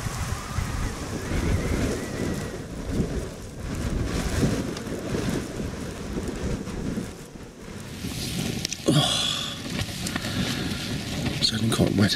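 Steady rain and gusting wind outside a tent on a wild camping trip, a constant close wash of noise with buffeting, and a brief rustle near the end.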